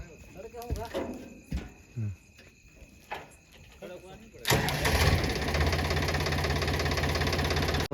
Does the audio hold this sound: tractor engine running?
yes